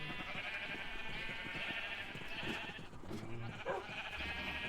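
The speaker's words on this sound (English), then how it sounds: "Oh yeah, and of course we have sheep." Sheep in the video game Minecraft bleat in short calls over a steady layer of game ambience and background music, a few distinct bleats standing out near the end.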